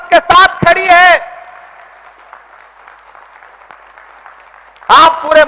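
A crowd at a large outdoor gathering in Patna's Gandhi Maidan claps in sustained applause, steady and moderately loud, between bursts of a man's speech at the start and end.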